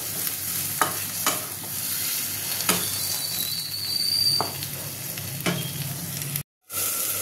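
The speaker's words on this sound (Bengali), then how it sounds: "এর মধ্যে জল দিয়ে এটাকে ভালো করে কষবো, কষে নেবো ভালো করে" Spice masala for dal fry sizzling in a pan after water is added, a continuous hiss with occasional sharp stirring scrapes and a brief break near the end.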